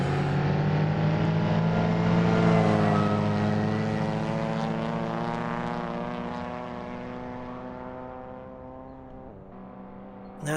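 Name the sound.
modded car engine and exhaust note in Assetto Corsa video game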